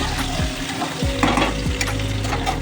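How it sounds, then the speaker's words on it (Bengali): Pointed gourd (potol) fries in mustard oil, making a loud, steady sizzle close by, with a few sliding scrapes of stirring and no talking. "এটা ভাজা হোক পটলটা"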